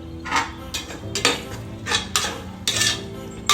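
Homemade ginger garlic paste fried in a pan for a bachelor's chicken biryani, stirred with a metal spoon that scrapes and knocks against the pan in uneven close strokes over a faint sizzle, no talking.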